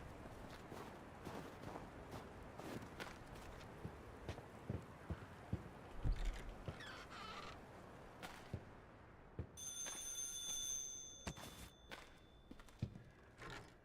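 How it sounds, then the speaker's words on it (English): Telephones ring in the horror game Stygian: Outer Gods, a thin repeating electronic trill appearing in the last few seconds, faint and far, over a dark background of rain-like patter and scattered footsteps. "Why are you ringing the phones?"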